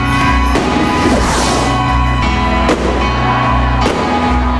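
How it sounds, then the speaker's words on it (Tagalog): New Year fireworks over a mall in Lipa, Batangas, crack and boom in a dense, continuous barrage, with sharp loud bursts landing every second or so over a steady roar of crackling. "Dinayo ng mga Batanggenyo ang isang mall sa Lipa para panoorin ang magarbong fireworks display."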